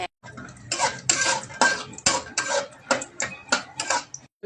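Peanuts fry in oil in a wok, clattering and rattling in quick bursts as they are stirred. The scraping and knocking sit close, with brief pauses between.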